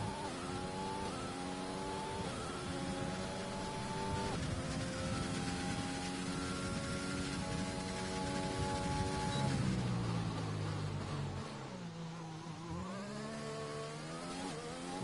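Several car engines rev and rise in pitch together during an Austria round of an online racing video game, a loud continuous game-engine drone with shifting tones and a gear-change dip near the end, with no voices.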